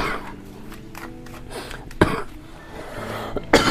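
Several throaty coughs from one person indoors, the sharpest bursts landing near the middle and close to the end, loud and close with no speech.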